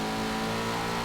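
A 2010 Audi TT's engine hums steadily at moderate revs in the racing game Forza Motorsport 7, a brief, faint, continuous drone with no talk over it.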